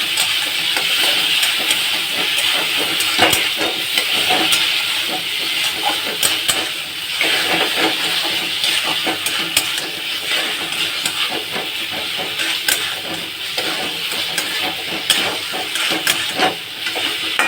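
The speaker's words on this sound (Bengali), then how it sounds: "এইবার আমি এইটার সঙ্গে ভালো করে নাড়াচাড়া করব।" Chhana (cottage cheese) stirred in a hot frying pan: a constant close sizzling hiss with irregular light scraping clicks from the stirring, no voices.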